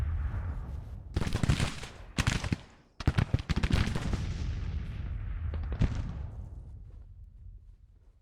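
Troop volleys in Grand Tactician: The Civil War, a Civil War battle: bursts of rifle and cannon fire crackle in uneven clusters, loud and close, with rumbling booms between and a fading echo toward the end.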